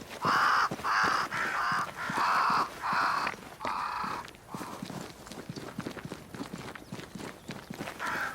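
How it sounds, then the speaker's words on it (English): Crows caw repeatedly near a great tree in the game Banishers: Ghosts of New Eden, a series of loud, close calls in the first few seconds, then softer rustling and footstep-like taps. "Crows. They flock to that great tree up there."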